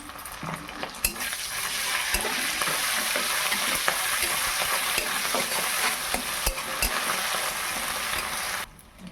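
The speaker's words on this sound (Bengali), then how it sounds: "পেঁয়াজটা লাল হয়ে গেছে, এবার দিয়ে দেবো আদা বাটা, রসুন বাটা" Ginger and garlic paste fries with browned onions in a pan, a loud steady sizzle running throughout with scattered sharp clicks of stirring, cutting off abruptly near the end.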